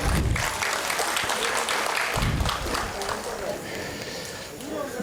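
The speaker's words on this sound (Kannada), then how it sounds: "ಚಪ್ಪಾಳೆ ಇರಲಿ ಬಂಧುಗಳು." Applause from an audience at a comedy show, a steady wash of clapping that carries through the whole stretch, with some voices and bumps mixed in.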